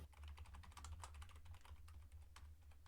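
Rapid, uneven typing on a computer keyboard, a quick patter of key clicks running steadily for about three seconds over a low background hum, with no voice.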